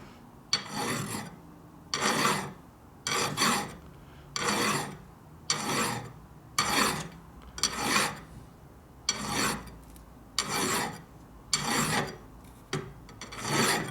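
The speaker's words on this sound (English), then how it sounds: "You let the file follow the surface and try to only cut where it needs to cut." Hand file rasping across a 1958 Harley-Davidson panhead 74ci engine part, about eleven slow, even strokes in a steady rhythm with short pauses between them, close and clear, with no talking.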